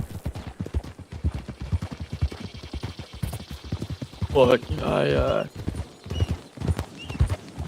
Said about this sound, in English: Hey, look, it's a black horse.